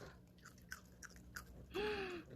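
Crisp cucumber crunched between the teeth in close, rhythmic bites, with a brief higher squeaky sound near the end.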